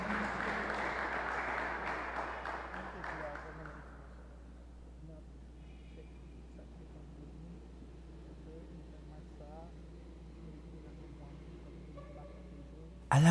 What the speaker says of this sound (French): Accueillez-les, s'il vous plaît, avec un tonnerre d'applaudissements.